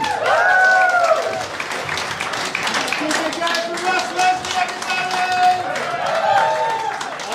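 Comedy club audience at a live stand-up roast show in Edinburgh applauds steadily, with crowd noise, whoops and a voice speaking over it throughout.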